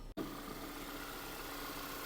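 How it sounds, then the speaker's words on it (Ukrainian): A 2017 Volkswagen Tiguan 2.0 TSI petrol engine idles steadily with an even, low hum and faint vibration, continuous throughout after a brief dropout at the start. "Двигун працює рівненько, частенько, без зауважень"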